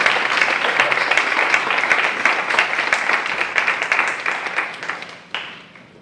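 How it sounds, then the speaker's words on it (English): An audience at American University applauds a speaker, a thick wash of many hands clapping at steady volume that thins out and fades toward the end. "Please give a round of applause for the visionary, the man of the night, Marc Alain Boucicault."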